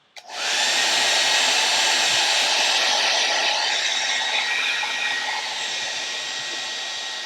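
A hair dryer blows loudly and steadily while removing an airbag sticker, a constant rushing whoosh from start to finish.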